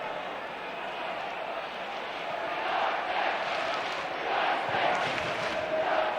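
West Ham football crowd at a match roaring and cheering from the North Bank, a dense, sustained wash of voices that swells midway and stays loud, heard at a distance with a commentator talking over it.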